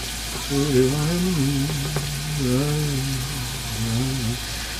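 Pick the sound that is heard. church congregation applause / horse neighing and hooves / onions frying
onions frying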